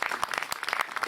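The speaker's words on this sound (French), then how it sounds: "Je vous demande de les applaudir." Polo spectators applaud at the end of a final match, a quick burst of dense, crisp clapping that is close and lively.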